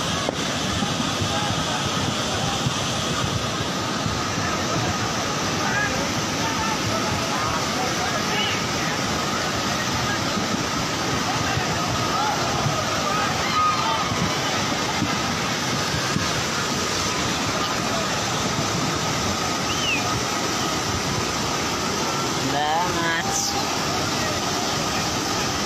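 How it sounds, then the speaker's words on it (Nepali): A flash flood surges down the Phakphok river in Ilam, Nepal, a continuous loud broadband roar of rushing water that persists throughout, with people talking nearby. "खोलाको बाढी"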